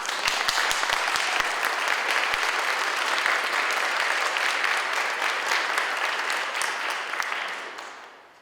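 Audience applause at a spring book party fills the room, steady and dense from the start, with a few sharper individual claps early on, then tapering off near the end.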